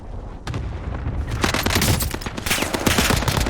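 M6 rifle fire in Warzone Pacific on the Caldera map: dense, rapid bursts of close automatic gunfire that build into a sustained fusillade.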